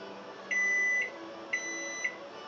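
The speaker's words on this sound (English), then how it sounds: "I think it beeps, I think, 7 times." A microwave oven gives two long, steady electronic beeps, each about half a second, over a quiet background hum.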